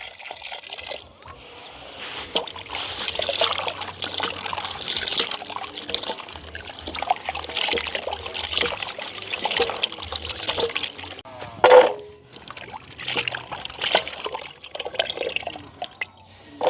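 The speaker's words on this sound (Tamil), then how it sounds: "இப்போ துண்டாக வட்டி எடுத்த கிழங்க வந்து நல்ல வடிவாக நாங்கள் கழுவி எடுக்க போகிறோம்" Cut pieces of yam being washed by hand in water at a village pond, with irregular sloshing, dripping and trickling splashes close by, rising and falling, and one louder slosh near the end.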